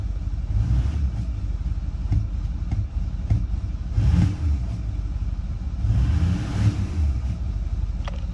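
A Ford 6.4L Powerstroke diesel with a fault that stops it building boost and makes it blow excessive smoke, idling with a low steady rumble near 1,250 rpm and swelling in a few brief surges, close and loud, no voices.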